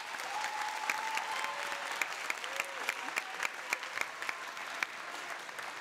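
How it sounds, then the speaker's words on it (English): An audience at a university convocation claps in a sustained round of applause, dense and even with some louder claps near the front, a voice briefly audible beneath it. "let's give our Student Senate President a round of applause"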